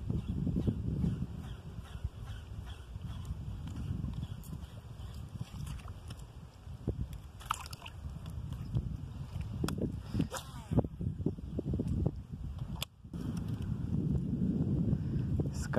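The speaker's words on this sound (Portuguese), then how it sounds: "Eita, começou a ventar." Wind gusting across open water during a fishing trip, a steady rushing buffet with microphone rumble and occasional knocks from the boat, continuous and fairly close, with no clear speech.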